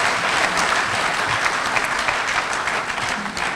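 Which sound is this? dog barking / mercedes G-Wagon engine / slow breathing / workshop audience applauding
workshop audience applauding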